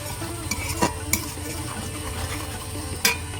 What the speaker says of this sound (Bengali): প্রথমে সেই জন্য আমি তেলের ওপর রসুন দিয়ে দিয়েছি